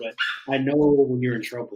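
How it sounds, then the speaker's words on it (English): A small, excited puppy yips and barks close by in short bursts while someone talks over the noise. "You have to excuse the noise. As my little pup is just going."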